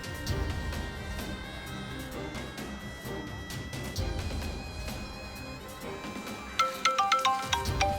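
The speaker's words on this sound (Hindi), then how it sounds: "अनवर का फोन आ रहा है।" A melodic electronic ringtone plays continuously over busy background music, with brighter repeated tones chiming near the end.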